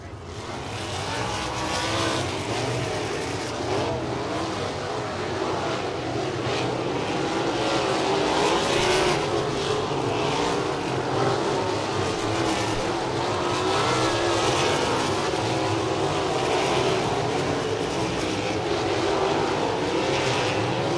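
USAC sprint cars run hot laps on the dirt oval at Lincoln Park Speedway, their engines roaring loudly and continuously as the pack circles, with no commentary over the noise.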